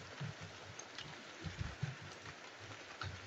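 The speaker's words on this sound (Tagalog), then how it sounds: "Malakas talaga ang ulan dito." Even, hissing downpour with scattered low thumps and rumbles, heard fairly softly with no voices.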